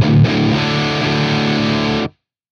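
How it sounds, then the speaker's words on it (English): High-gain distorted electric guitar through a Sonicake Black Hammer multi-effects unit, played with humbucker pickups: a dense, saturated chord riff ringing loud and steady for about two seconds before cutting off abruptly into silence. "So we'll begin with the high gain distortion"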